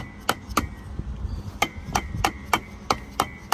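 Hammer blows ring out on a Jeep's metal axle, about nine sharp strikes at an uneven pace, close and loud over a faint background rumble.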